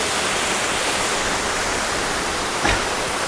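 A waterfall stream pours down the mountainside at Ajuterique, Comayagua, Honduras, a loud, dense and unbroken rush of water filling the scene, with one brief thump near the end and no one speaking.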